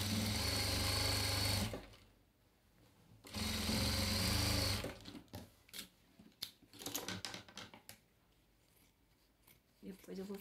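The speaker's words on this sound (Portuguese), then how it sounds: "essa máquina de costura reta aqui, ela costura tudo" A straight-stitch sewing machine runs through patchwork quilt fabric in two loud, fast bursts, followed by quieter handling clicks and rustling while someone talks nearby.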